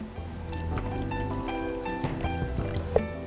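A little water is poured into a mixer jar holding beetroot, curd and country sugar, a soft, close trickle over faint background hum.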